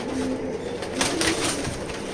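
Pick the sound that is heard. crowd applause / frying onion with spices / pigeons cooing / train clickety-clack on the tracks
pigeons cooing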